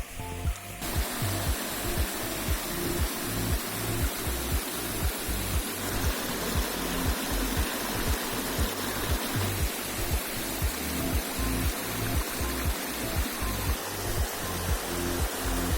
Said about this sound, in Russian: А вдалеке, если прислушаться, слышно водопад.